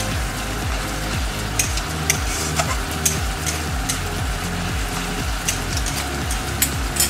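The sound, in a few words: katla fish frying over high flame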